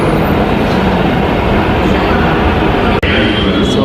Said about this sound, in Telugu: నేనైతే రాయదుర్గం కోసం అయితే ట్రైన్ కోసం వెయిట్ చేస్తున్నా